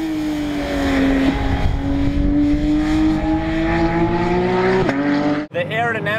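A 2019 Porsche 911 GT3 RS engine revs loudly and steadily climbs in pitch, holding a strained high whine before briefly cutting out and picking back up.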